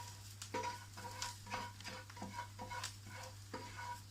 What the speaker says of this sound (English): Just trying to scrape everything into the dish.